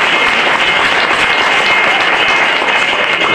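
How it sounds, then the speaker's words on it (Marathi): An audience at a school annual prize-distribution ceremony applauds the winning school team, with dense, loud, steady clapping from a large crowd filling the whole stretch without pause. "सर्वांनी जोरदार टाळ्या वाजवायच्या या विजेत्या संघासाठी."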